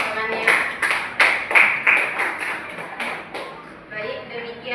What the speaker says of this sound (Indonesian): Oke, beri tepuk tangan untuk temannya.